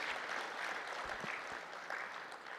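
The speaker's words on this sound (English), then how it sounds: "Let's give her another round of applause" Steady audience clapping continues at a summit after a speech, a brief even wash of applause at moderate level with no voices on top.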